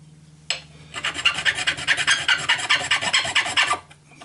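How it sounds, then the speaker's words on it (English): The red barrel tip of a Cybergun Sig Sauer P226 gas blowback airsoft pistol is hand-filed in quick rhythmic back-and-forth rasping strokes for about three seconds, close and loud, with no talking. "or as I file, just to make sure I'm not doing one side too heavily"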